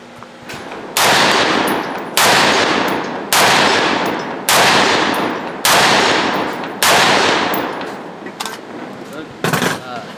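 A 5.56 Honey Badger rifle fires during function testing, seven loud, sharp shots spaced about a second apart, each with a ringing tail, followed by a quieter metallic handling clack.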